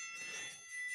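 A short, faint bright bell chime rings alone as a notification alert, its metallic tones lingering for about a second.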